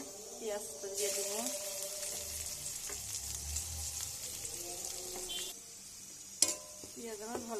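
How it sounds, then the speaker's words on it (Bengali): Onions sizzle and fry in hot oil in a home kitchen ahead of cooking fish, a soft steady crackle with occasional stirring clinks and a sharp knock near the end. "পেঁয়াজ আমার ভালোভাবে ভাজা হয়ে গেছে।"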